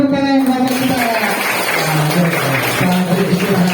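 A crowd of primary school children claps loudly and steadily in a school setting, a dense wash of applause that carries on throughout, mixed with some voices.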